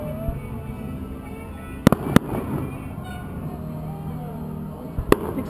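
Fireworks burst over a July Fourth celebration in Santa Barbara, with a few sharp explosions standing out over a steady background rumble and crowd noise, while people talk nearby.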